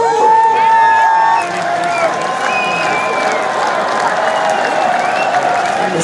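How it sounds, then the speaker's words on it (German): A large crowd at a heavy metal festival applauds and cheers in a loud, sustained roar of clapping and shouting, with voices rising above it. "Das ist euer Applaus."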